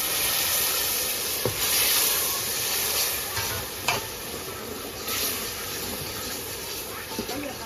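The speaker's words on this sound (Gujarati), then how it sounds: "આ પાણી ત્યાં બળે નહીં ત્યાં સુધી હલાવ્યા રાખવાનું છે" Mutton curry with garlic and red chilli sizzles and hisses in a pan while a spoon stirs it, making a constant close frying sound with occasional clacks and scrapes of the stirring.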